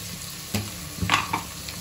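Onions and tomatoes sautéing in a pan for chana biryani: a steady close sizzle broken by a few sharp stirring scrapes and clatters from a spoon, with no voices.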